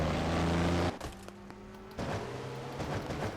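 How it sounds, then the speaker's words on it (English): A race car engine in a racing video game, on an Oldsmobile with a torn-up back end, hums steadily, cuts out briefly, then comes back at a lower drone as it restarts. "able to get his car to start back up here"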